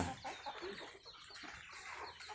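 Free-range backyard chickens clucking in an evening farmyard, several hens calling over one another in a steady, busy chatter at moderate distance with no speech.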